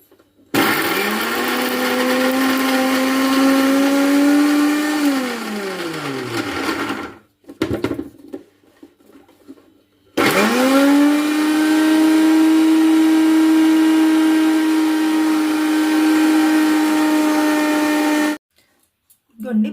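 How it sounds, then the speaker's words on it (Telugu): Loud whirring mixer grinder grinding coconut pieces, cumin and garlic into paste, running in two long bursts with a brief stop between, motor pitch dropping as it winds down, then restarting. "మిక్సీ జార్లో ఇలా కొబ్బరి ముక్కలు అలాగే జీలకర్ర వెల్లుల్లి వేసి మెత్తగా పేస్ట్ లాగా చేసేసుకున్నాం"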